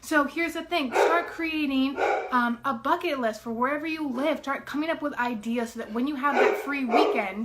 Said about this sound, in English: right now I'm dog sitting, so you can hear the dog in the back